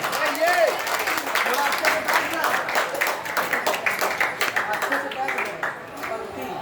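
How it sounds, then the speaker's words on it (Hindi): An audience claps to welcome a guru before he performs devotional bhajans. The applause is lively but uneven and rises and falls, with a voice speaking over the clapping throughout. "सभी लोग जोरदार तालियों से स्वागत करें।"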